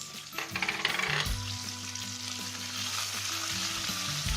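Onions and green chilies with garlic and chili flakes sizzle steadily in a pan while being stirred for a mushroom Manchurian, a continuous close frying hiss with light scraping and clinks and no talking.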